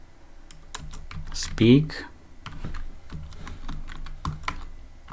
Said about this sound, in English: Then I'll go down here and I'll type def